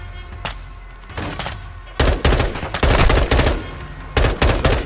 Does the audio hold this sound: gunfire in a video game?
yes